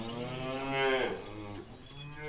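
Buffalo lowing in a comedy film scene: a long, loud, close moo with strong harmonic tone that swells and bends in pitch, then a second lower call, with no voices over it.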